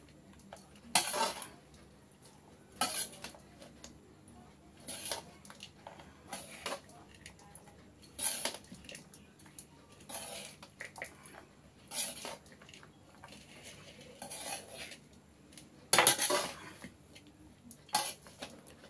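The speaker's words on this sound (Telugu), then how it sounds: "కలుపుకుందామండి బాగా" Basmati lemon rice being stirred in a pot with a metal spoon, giving repeated scraping clinks every second or so, fairly faint and close, with soft background murmur between strokes.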